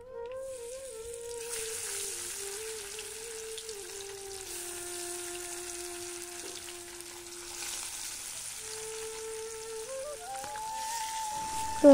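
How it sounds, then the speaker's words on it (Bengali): Silver carp pieces frying in oil on a wood-fired stove, a soft continuous sizzle under a sustained tonal hum, moderately quiet and steady, ending with a brief louder clatter. "তো এখানে মাছ ভাজা শুরু করে দিয়েছি।"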